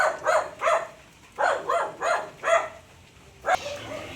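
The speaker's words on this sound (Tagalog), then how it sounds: "Aso lang naman." A dog barks in sharp bursts on a rural farm in Bulacan, about six loud barks in two clusters with brief pauses between, then a final bark near the end.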